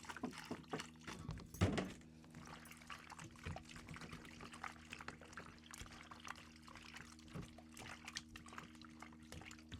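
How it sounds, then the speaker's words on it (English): Fresh water pours over wild-caught rabbit meat as it is cleaned outdoors: a faint, steady trickle with a brief louder splash near the start and no talk. "Some more fresh water,"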